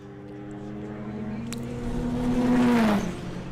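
A drag racing car at Santa Pod with its tyres squealing, a rising whine over engine rumble that swells and then fades.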